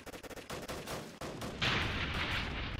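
A grenade goes off in the Roblox war game Call of Robloxia 5: a rapid volley of gunshots, then a loud, sustained blast of rushing noise that fills the rest of the moment.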